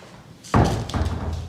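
A red door closes with a single solid thud in an indoor corridor of a converted London fire station apartment, followed by a short dull rattle.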